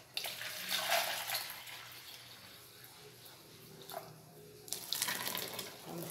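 Water being poured into a container while measuring it out for homemade liquid soap, splashing in two bursts with a quieter trickle between, faint and close.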